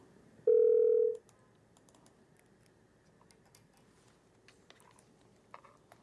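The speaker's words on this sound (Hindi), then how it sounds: "फोन लाइन डिस्कनेक्ट हो गई है" A single steady electronic tone lasting about half a second on a dropped phone line during a live call-in show, followed by faint ticking and clicks with no speech.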